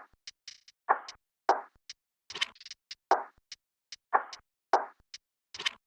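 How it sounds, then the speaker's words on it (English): Dry counter-snare Foley percussion in an FL Studio loop: short knocking, woody hits alternating with thin high clicks in a syncopated, repeating pattern, close and crisp with silence between strikes. "Then I added this kind of counter snare Foley percussion."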